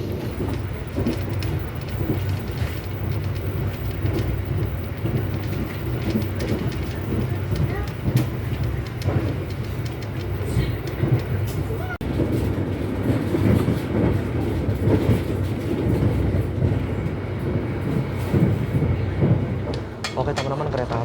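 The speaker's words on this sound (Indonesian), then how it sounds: "kereta api Argo Cirebon dari Gambir sudah diberangkatkan tepat pukul 8:30" The Argo Cirebon passenger train from Jakarta Gambir rumbles steadily along the rails, with a continuous low roar and faint rhythmic clatter of wheels, close and fairly loud throughout.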